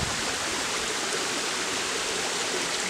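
A river flows steadily in bright sunlight, a dense, even rush of water carrying on without pause, close and fairly loud, with no voices over it.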